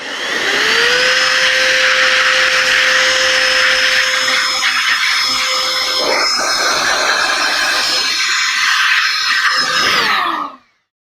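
Loud continuous blast of air blowing dust out of an Alienware 17 R3 laptop, a steady rushing roar with a whining tone, shifting slightly midway and cutting off abruptly at the end.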